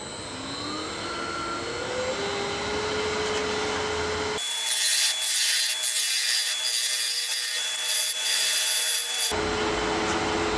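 Wood lathe spinning a pignut hickory vase as a tool cuts off the tenon: a steady motor hum with a rising whine, then about five seconds of loud, harsh scraping hiss from the cut before the hum returns alone.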